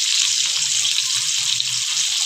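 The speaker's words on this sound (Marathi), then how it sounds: "पहिला आपण तव्यावर तेल टाकलं आहे. आता आपण कांदा टाकून घेऊया." Onion fries in oil on a hot griddle, making a steady, close, hissing sizzle with light stirring underneath and no talk.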